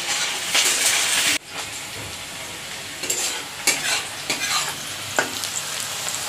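Onion, garlic, ginger and green chilli fry in hot oil for a meat dish, a loud crackling sizzle that drops suddenly after the first second, then carries on with repeated stirring scrapes and bursts of spitting.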